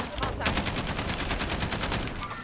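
Sustained rapid gunfire in Call of Duty Warzone, loud and continuous with a steady rattling rhythm of automatic shots throughout.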